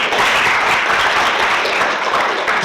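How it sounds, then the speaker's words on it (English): Sustained audience applause at an education conference session, a dense, even wash of many hands clapping at close range for the full length, with no talk over it. "round of applause for Jeremy, please."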